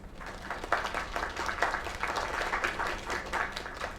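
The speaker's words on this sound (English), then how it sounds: "Another round of applause." Audience applause in the video game Lake, a steady crowd of clapping hands held at an even level for several seconds, with no voices over it.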